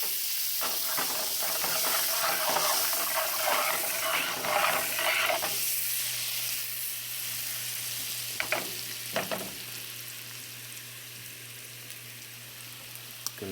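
Garlic sizzles in a frying pan on medium-high heat alongside shrimp, a loud, close, steady hiss and crackle with a few scraping stirs and clicks, the frying fading slightly later on.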